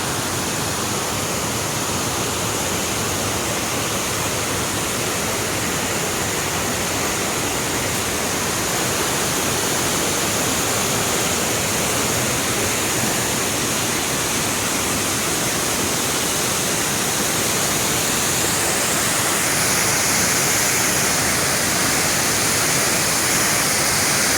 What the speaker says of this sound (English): Make sure I don't fall into the creek.